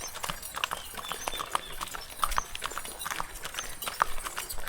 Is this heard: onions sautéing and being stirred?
no